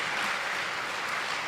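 Even, sustained clapping from an audience during a Tamil motivational speech, moderately loud and unbroken, with no voice over it.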